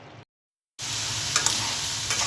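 Shrimp stir-frying in a pan, a steady close hiss and sizzle that starts after a brief silence, with a couple of faint scrapes of stirring.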